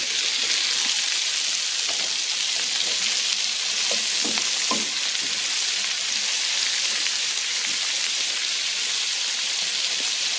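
Bacon and chopped onions frying in bacon grease, a steady dense sizzle with scattered crackles and a few pops around the middle, continuous and close throughout.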